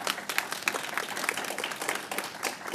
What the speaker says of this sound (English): I want a round of applause for Tracy for doing